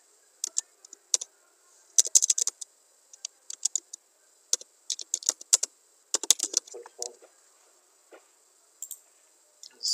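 A file name is typed on a computer keyboard in quick irregular bursts of crisp key clicks with short pauses between them, close and fairly quiet.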